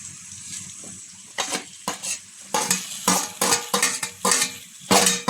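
Food sizzles steadily in a pan while a utensil stirs and scrapes, making a series of sharp, uneven clatters over the constant hiss.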